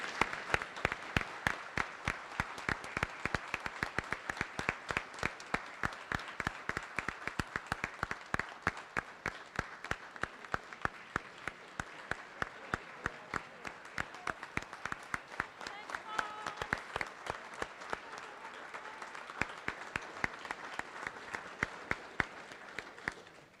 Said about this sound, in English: let's please have a round of applause for the moms and the